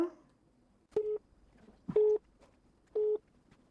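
An outgoing telephone call rings out as three short, steady tones about a second apart, fairly faint, with quiet background and no talking.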